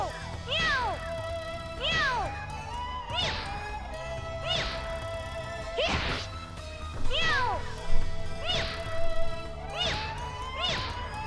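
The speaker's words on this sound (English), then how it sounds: "Why are there so many meow cats here?" Cartoonish cat meows from the video game Disgaea 3 repeat in a steady series, about nine rising-and-falling mews spaced roughly a second apart over soft background music.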